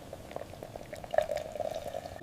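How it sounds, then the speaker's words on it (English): Braised pork and eggs simmering gently over low heat in a pot with coconut water, giving a soft, steady bubbling with small pops, close and quiet, with no talk. "Món thịt kho ngon cần phải nấu lửa nhỏ liu riu"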